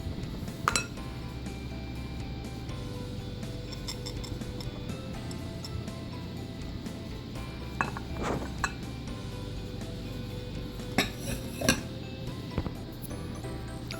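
A spatula scrapes and taps against a mixing bowl as butter is worked into banana bread batter, a run of irregular close clinks and knocks over a low continuous background hum.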